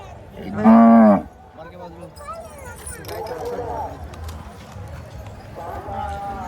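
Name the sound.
Deoni cow at livestock fair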